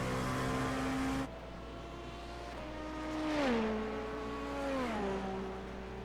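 Race car engine from an IMSA racing game, a loud steady drone that cuts out abruptly, then returns at a lower pitch with gear shifts dropping its tone twice as the car accelerates and changes gear.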